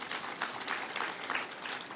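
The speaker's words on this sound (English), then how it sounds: "give them a round of applause" Brief, moderately quiet applause for ambassadors and high commissioners at the official opening of Bunge Tower in Nairobi, a dense patter of many hands clapping at a formal gathering.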